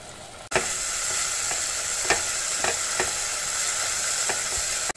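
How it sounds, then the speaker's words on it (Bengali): Tomato masala sautéing in hot oil, a steady close sizzle and fry with a few soft scrapes of stirring spread through, no voices over it. "এবার এটাকে খুব ভালো করে কষিয়ে নেব, 4-5 মিনিট সময় ধরে খুব ভালো করে কষাবো"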